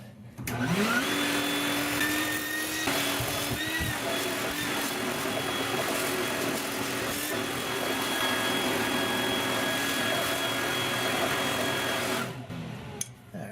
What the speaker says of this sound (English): turn the shop vac on